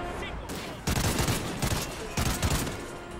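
Rapid bursts of automatic gunfire in Call of Duty: Ghosts on the Atlas Falls mission, loud, dense volleys in two clusters with a brief lull between, with faint voices in the background.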